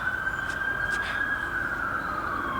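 Fire engine siren wailing steadily at a distance, a sustained tone drifting slightly in pitch over low rumbling background noise.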